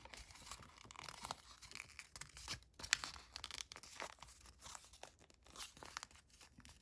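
Paper is creased and folded into an origami Harrier jump jet, giving soft, close crinkles and scratchy rustles at a low level, with one sharper crackle partway through and no talking.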